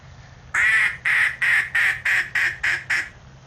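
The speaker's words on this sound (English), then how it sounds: "Look at them ducks." Eight loud, evenly spaced duck quacks ring out in a quick rhythmic series near a golf course, close and clear over faint background hum.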